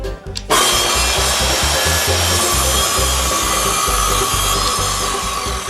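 A power saw starts up and cuts steadily through wood, a loud continuous whine with a rough, grinding texture close by.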